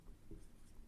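Chalk or marker strokes on a board during a Hindi-medium physics lesson on concave mirrors, a short, close scratchy writing sound alone for about a second.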